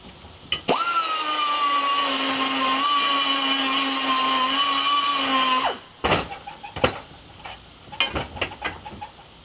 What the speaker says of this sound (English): So here I've got to grind a little bit more on the inside.